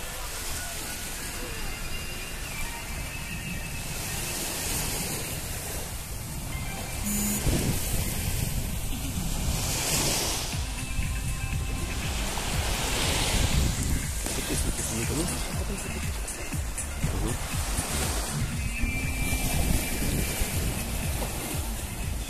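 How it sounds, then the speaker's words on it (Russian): Waves and wind at Paradiso beach in Ulcinj, Montenegro, a beach with volcanic sand, form a constant broad wash of surf and breeze. Voices of people talking run over it throughout. "Пляж Парадизо."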